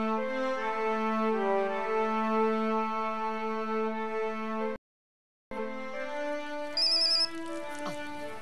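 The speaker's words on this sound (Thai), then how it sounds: "เฮ้ยโทรศัพท์" A mobile phone plays a melodic ringtone steadily and loudly, breaking off briefly and then resuming with a few higher chirping tones near the end.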